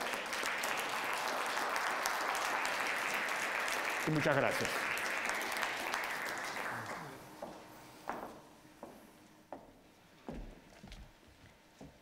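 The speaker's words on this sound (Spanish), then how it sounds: "Les pido por favor un aplauso a este excelente panel." Audience applause for a panel at an economic outlook conference on Latin America, steady crowd clapping for several seconds, fading into scattered claps while a speaker thanks the room.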